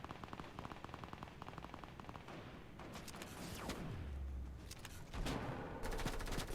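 Gunfire in Fortnite during a solo arena match on Nintendo Switch: fairly quiet, scattered shots and short rattling bursts with some heavier impacts toward the end, no voices.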